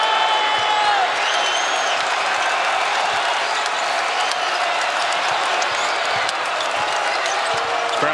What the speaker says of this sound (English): Crowd's back in it.